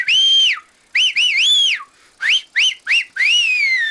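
A person whistles a bright, clear tune in short phrases, several sliding notes separated by brief pauses, loud and close with no other sound.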